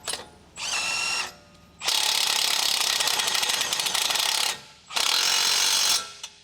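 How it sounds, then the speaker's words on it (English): A large electric impact wrench with a 21mm long socket tightening the outer tie rod end retaining nut during front air suspension work on a 2013 Dodge Ram 1500, in three loud, close bursts of rapid hammering rattle, the middle one longest. "Using the large 21mm long socket with the large electric impact wrench, tighten the outer tie rod end retaining nut."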